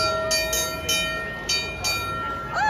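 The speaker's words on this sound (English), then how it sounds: "about to walk in front of this train" A train at Disneyland rolls past close by with steady rumbling, rhythmic clanks, and a high metallic squeal rising near the end.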